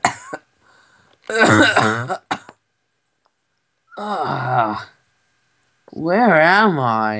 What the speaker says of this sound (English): Suddenly, some dust comes up from the floor. And you cough.